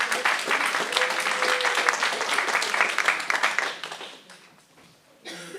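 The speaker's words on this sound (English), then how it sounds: "a big round of applause for the last person." Conference audience gives a round of applause, dense sustained clapping from a roomful of people that fades out toward the end, with a brief murmur of voices after it dies down.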